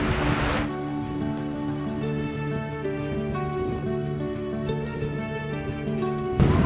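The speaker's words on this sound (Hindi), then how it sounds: "ये आप झरना देख सकते हैं जो झरना चल रहा है" Garwaji waterfall in Alwar, Rajasthan sends out a continuous, even rushing roar heard from a hilltop, steady throughout with a faint tonal hum underneath.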